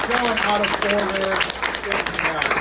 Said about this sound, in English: how about a round of applause for the air quality for going